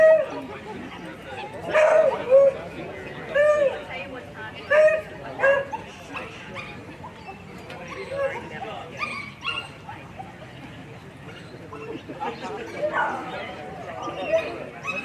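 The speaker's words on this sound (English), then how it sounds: "please welcome the Beagle Club of Queensland Hunting Pack." A beagle hunting pack at a national dog show gives repeated barks, yips and drawn-out baying howls, several dogs at once at moderate distance, with a voice talking over them.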